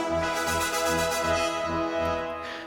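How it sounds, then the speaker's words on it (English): A short film-score-style trumpet flourish from a virtual instrument, bright brass notes in a quick pulsing figure over sustained lower chords, fading out at the end. "So just a really nice simple trumpet flourish"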